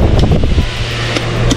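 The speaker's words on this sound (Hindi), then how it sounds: "table fan" Small battery-powered table fan running, a steady whirring hum with airy noise close to the microphone and a few soft clicks and handling sounds.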